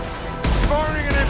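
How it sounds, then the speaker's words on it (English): An impact shot fired in the Mass Effect 2 video game, a sudden loud blast opening into a sustained booming burst with ringing tonal tails over a short stretch. "Firing an impact shot."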